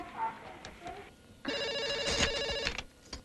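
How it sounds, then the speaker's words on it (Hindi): Telephone ringing steadily as a call goes out, a bright trilling ring that starts after a brief quiet stretch of muffled room sound and holds for over a second. "मीनाक्षी को फोन करते हैं"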